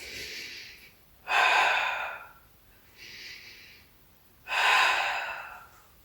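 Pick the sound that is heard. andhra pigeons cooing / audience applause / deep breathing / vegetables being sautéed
deep breathing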